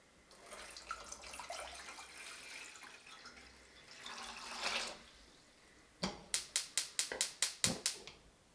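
Four cups of water are poured into a pot for a chili colorado base. The water splashes and runs steadily for several seconds, and then a quick series of sharp clicks and knocks follows.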